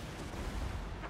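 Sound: warp lightning cannons firing in video game Total War: Warhammer 2

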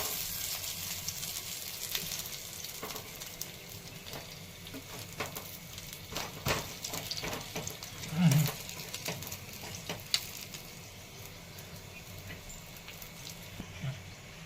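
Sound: shallow-frying alu vadi pieces in a pan

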